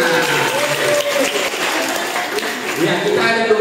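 Applause from a group of students on a high school study tour in Medan, steady clapping throughout, mixed with chatter and voices close by.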